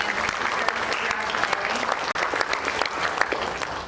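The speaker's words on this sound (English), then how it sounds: "Please join me in giving another round of applause to all of our excellent panelists" Symposium audience applauds the panelists with a full, continuous round of clapping from a sizeable crowd, loud and dense for nearly four seconds, with no talk over it.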